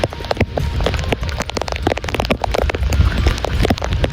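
Rain falls all around outdoors, a dense close patter of drops hitting surfaces, loud and unbroken throughout, with no talking.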